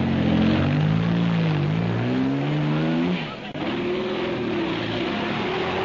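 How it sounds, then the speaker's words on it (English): Roaring engines of race cars in the 1967 Baja 1000 off-road race revving and pulling away from the start line, loud and continuous, with the pitch sliding up and down as they accelerate. "car after car leaves the line and starts the long grind to La Paz"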